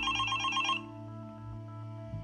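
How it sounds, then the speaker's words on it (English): An early-morning telephone ringtone plays a repeated electronic trill, then drops into a steady softer tone under a low background hum, with no one speaking. "The phone rang, and it was 5:30 in the morning."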